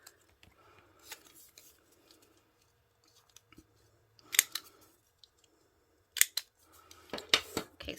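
Corner rounder punch clipping the bottom corners of small paper pieces, a few quiet, crisp snaps in short clusters, close by, with light paper handling between them.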